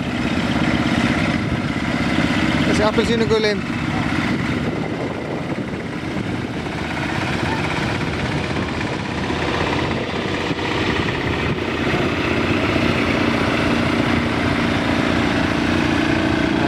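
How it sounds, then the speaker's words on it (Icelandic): A Porsche tractor rolls along in a tractor parade at the Reykhóladagar festival in Iceland, its engine chugging steadily and loudly close by, while a voice speaks briefly near the start. "Hér kemur meira að segja Porsche traktor."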